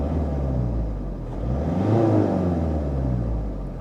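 A car engine revving up from idle: a loud rumbling drone that swells to a brief rise in pitch and then settles back down, with no talking.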